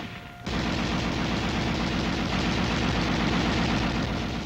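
An M73 7.62 mm coaxial tank machine gun fires a long, sustained automatic burst, loud and close, with a dense unbroken rattle that starts abruptly and continues to the end.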